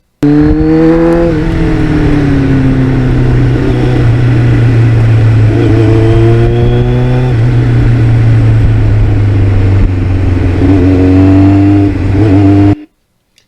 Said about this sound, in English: some out on the highway just to hear the sound of the muffler